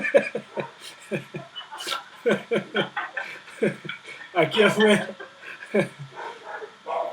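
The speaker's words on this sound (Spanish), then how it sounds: "casi no la escuché porque tengo un pleito de perros" Dogs scuffle and bark outside during an online class, with yelps, growls and whimpers coming through in bursts while people talk and chuckle close to the microphone.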